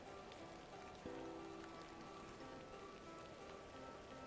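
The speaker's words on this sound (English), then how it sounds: "It's raining again!" Steady rain in the video game The Excavation of Hob's Barrow, a faint continuous patter of drops on surfaces with no talking.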